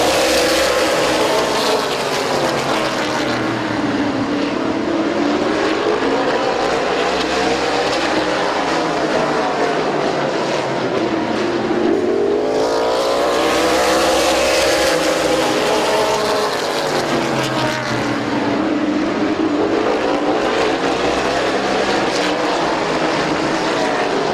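Race cars at Midvale Speedway thunder past in a dense, loud engine roar that swells and fades in waves as the field circles the track and drivers battle for position.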